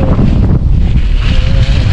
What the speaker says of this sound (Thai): โอ้ยลมมันแรงมาก